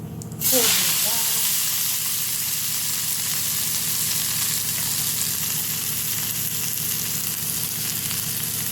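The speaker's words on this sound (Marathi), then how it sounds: "कांदा फोडणी टाकला आहे" Chopped onion hits hot oil as tempering for an okra dish, with a sudden loud sizzle that settles into a steady, close frying hiss.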